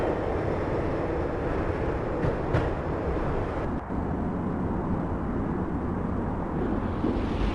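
A subway train riding in the Max Payne video game: a steady, loud rumble of rolling rail noise filling the whole stretch, with a brief dip partway through, no voices.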